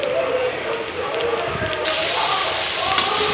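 Chopped onions sizzle and fry with added salt in a pan while a Tamil dried-fish thokku is cooked, a steady, close crackling hiss that holds throughout with no one speaking.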